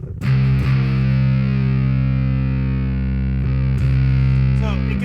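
A loud, heavily distorted Electro-Harmonix Big Muff Pi fuzz electric guitar on a single-coil pickup with the tone rolled down holds sustained chords with a warm, muffled tone, re-struck once partway through.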